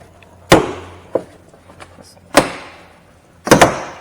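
Plastic trim clips on the rear door card of a 2006-2013 Holden Commodore VE popping free as the panel is tugged off, giving three or four sharp, close snaps a second or so apart.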